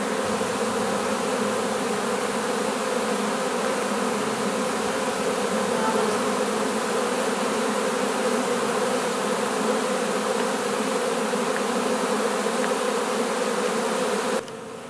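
A honeybee swarm fanning and marching into a hive box makes a thick, continuous buzzing drone, close and steady throughout, cutting off abruptly at the very end.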